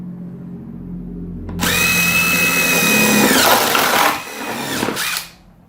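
A power drill fitted with a step drill bit bores through plastic, a rising motor whine that loads up as the bit cuts, then eases off and briefly spins up again before stopping.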